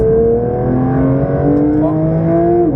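A car accelerates hard out of a corner on the Dreux racing circuit, its engine note climbing loud and close in a strong, steady rise with no voices over it.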